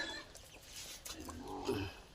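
Soft, low clucking from a hen with two chicks, a few murmured calls rising near the end, quiet and close, with faint high chirps mixed in.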